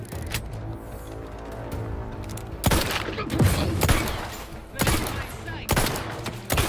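Chaotic gunfire in the video game The Outer Worlds 2, with repeated loud bursts of shots and booms cracking over a constant noisy battle backdrop at close range.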